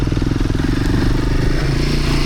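Off-road trail motorcycle ploughing through mud in Brittany, engine revving loud and close with a steady throbbing beat and some clatter, no talking.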